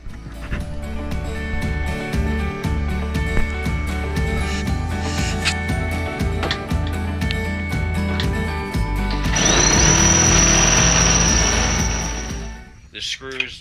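A power tool buzzes and chatters steadily while cutting around the marked edge of a boat transom, then grows louder and harsher toward the end before stopping abruptly.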